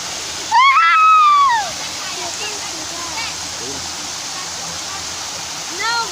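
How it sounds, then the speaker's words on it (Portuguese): A waterfall at Horto Florestal de Avaré pours with a steady, close roar of rushing water, and a voice briefly exclaims near the start over the constant spray. "A cachoeira!"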